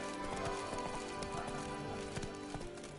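A horse gallops in The Witcher, with dense, steady hoofbeats thudding close and continuous under a busy game soundscape, and no talk.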